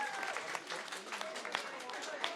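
Wedding reception guests applauding and cheering in a short, steady burst of clapping from a crowd, with voices mixed in throughout.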